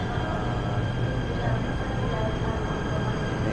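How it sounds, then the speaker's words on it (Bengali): A metro train pulling into a station in Malaysia produces a loud, steady rumbling roar with a faint high whine. It continues throughout at close range. "এই চলে এসছে আমাদের ট্রেন।"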